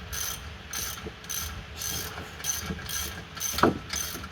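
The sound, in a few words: ratchet wrench turning on VW Transporter T5 front suspension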